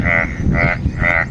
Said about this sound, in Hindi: मेंढक बोल रहे हैं, वो देखिए कितने बड़े बड़े मेंढक हैं,